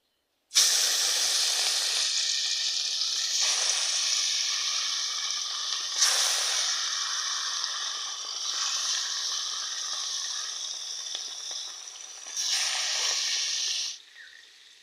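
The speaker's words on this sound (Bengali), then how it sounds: "এবার মাছটা আমি ভেজে নেব।" Tilapia fish fries in hot oil in a pan, a loud, close, continuous hiss and sizzle that swells in bursts as the fish is moved, then cuts off near the end.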